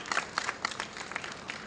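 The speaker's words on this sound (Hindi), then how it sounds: "तालियां बजा दो।" An audience at a Shani Dham gathering claps in a short burst of loose, scattered applause, close and fairly dense, with no talk over it.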